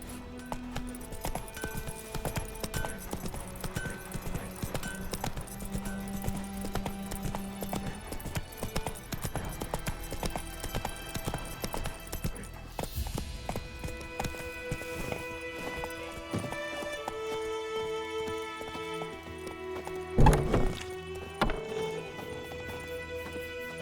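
Horse hooves clip-clopping at a steady gallop in The Witcher 3, continuous over a game soundtrack with a brief louder burst near the end, no talk.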